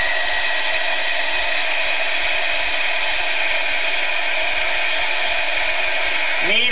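Hair dryer blowing steadily on an art journal page, a loud, continuous close-up whoosh and whine that holds throughout and changes pitch briefly at the very end.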